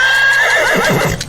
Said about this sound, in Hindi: गाड़ी वाले ने चाबुक चलाई और घोड़ा गाड़ी दौड़ पड़ी।